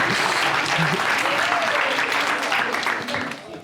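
An audience applauds a speaker at a talk, a steady wash of clapping that holds at an even level and then fades out toward the end.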